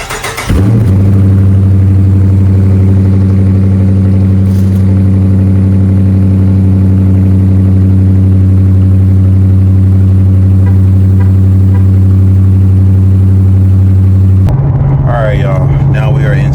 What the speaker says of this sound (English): We're gonna get you guys the first cold start of the day.